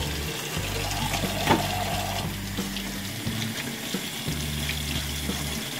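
Warm water runs from a tap into a kitchen sink during toaster cleaning, a continuous close splashing stream that briefly changes tone midway, with no voices.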